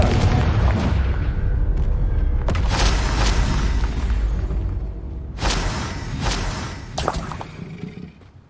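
Confringo spell blasts in Hogwarts Legacy: repeated loud booming bursts with whooshes and shattering debris, several strong impacts spaced across the stretch against a rumbling battle background.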